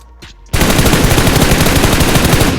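Automatic gunfire in PUBG starts abruptly after a short quiet moment, then keeps going as a loud, rapid, steady stream of shots until the end.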